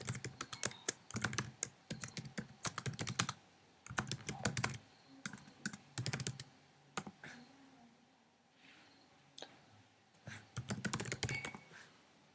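A computer keyboard being typed on while an SQL statement is entered, close, quick clusters of key clicks in irregular bursts with short pauses between them, fairly soft overall.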